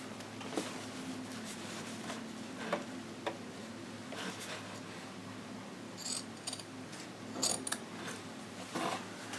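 Scissors snipping off the fabric point of a Halloween trick-or-treat bag, a series of sharp, close clicks and cuts scattered over a low steady background hum.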